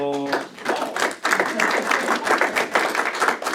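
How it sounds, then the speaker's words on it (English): Students clapping together after a classical geometry class on Euclidean constructions, a dense burst of applause lasting several seconds with steady, overlapping claps at close range. "Your students applaud after each class."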